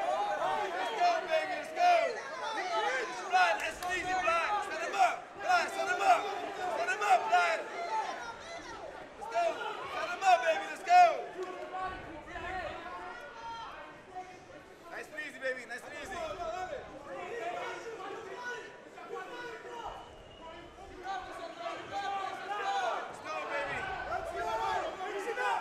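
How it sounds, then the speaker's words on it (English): Crowd at a fight night at the Space at Westbury chatters and calls out in a steady, moderately distant babble, with some shouts rising through it over about twenty-five seconds. "Crowd here at the Space at Westbury."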